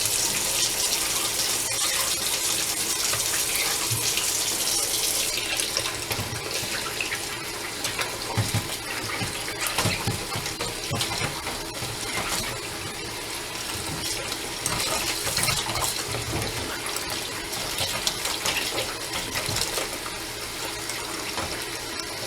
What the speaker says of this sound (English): I have it in the water and the vinegar, but I'm just going up and down to get the rest of the silt off